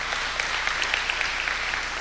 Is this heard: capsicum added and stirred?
no